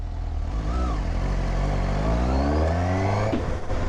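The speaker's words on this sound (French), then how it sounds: "Oh là là, le son du 4 cylindres les gars." A Suzuki GSX-S 750 four-cylinder motorcycle engine revs up strongly, its pitch climbing steadily in a loud, continuous roar, close by with no talking.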